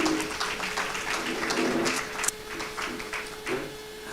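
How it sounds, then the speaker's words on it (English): An audience at an AI conference session in Paris applauds, giving a steady wash of many hands clapping, with a faint constant hum underneath. "Sous vos applaudissements également, mesdames et messieurs."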